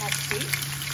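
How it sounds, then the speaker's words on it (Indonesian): Onions frying in a pan, a dense steady sizzle and crackle close up, with a faint low hum and a brief stirring scrape beneath it. "Ini saya akan goreng bawang, pakai ikan ya, buat nasi."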